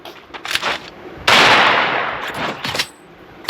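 Rapid gunfire from a Desert Eagle pistol in the Free Fire video game, with quick bursts of loud cracks, then a sustained noisy blast that fades off, followed by more scattered shots.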